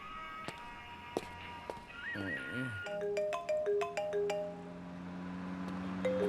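A phone ringtone plays a repeating electronic melody of bright beeping tones, with a few sharp clicks and faint background sounds.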